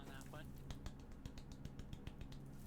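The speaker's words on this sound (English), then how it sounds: "Get a golf clap on" Soft, scattered clapping, a handful of light claps at an irregular pace, fairly quiet with faint background noise.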